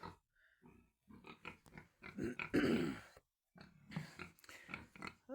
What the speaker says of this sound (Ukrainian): Тут у нас сидить Кабанчик і свинка ті, що були в сарайчику.